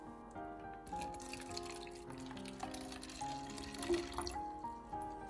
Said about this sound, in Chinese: 水不需要灌满，灌上一点点就可以了